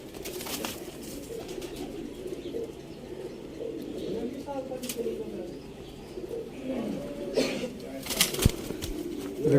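Teddy pigeons held by a breeder in Sialkot coo softly and steadily, with brief bursts of wing flapping near the end, under a voice talking nearby.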